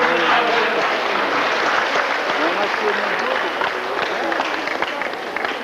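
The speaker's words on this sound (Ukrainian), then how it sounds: "От тепер можна плескати зараз." Sustained applause from an audience at the 1991 Prykarpattia beauty pageant in Ivano-Frankivsk, dense steady clapping mixed with crowd voices, loud and close, easing slightly toward the end.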